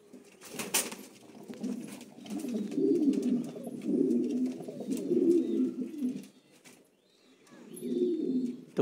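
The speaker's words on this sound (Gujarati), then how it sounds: "જેને પણ કબૂતર જોઈએ મને કોલ ડાયરેક્ટ કરી શકે છે" Pigeons cooing at a pigeon farm in Bechraji, Gujarat, several rounds of low throaty coos in bursts with short pauses, close and clear, a sharp wing flap near the start.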